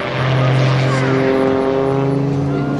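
Aerobatic propeller airplane hanging on its prop at an airshow, a loud sustained droning engine roar with steady harmonic tone, someone talking over it throughout.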